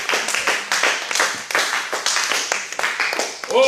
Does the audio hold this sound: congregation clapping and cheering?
yes